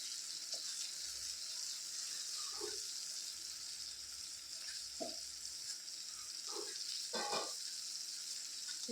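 Eggs go into a pan of simmering tomato shakshuka, with a steady close sizzle and bubbling broken by a few soft taps and plops.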